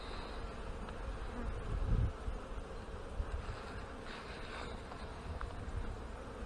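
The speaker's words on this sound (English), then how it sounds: "Two bees on the bottom there" Honey bees buzz steadily around an opened hive during a February hive check, a continuous close insect drone with faint background wind and no talk.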